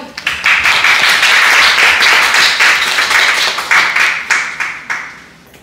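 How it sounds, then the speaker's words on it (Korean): An audience at a Korean pharmaceutical policy forum breaks into loud, sustained applause, dense clapping that holds steady for several seconds and then thins out at the end. "큰 박수로 맞아주십시오"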